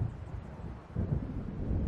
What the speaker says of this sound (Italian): Sembra che stia arrivando un temporale.